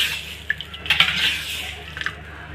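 Cooked asafoetida tipped into ghee and stirred in a pan, giving a few light metallic scrapes and clinks from a utensil over a faint sizzle.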